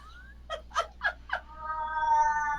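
A cat lets out a string of short, chattering meows, four quick bursts, followed by a longer drawn-out meow, close and fairly loud.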